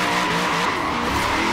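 A car drifts in Forza Horizon 4, its tires squealing in a sustained, loud screech over a revving engine for the whole short stretch.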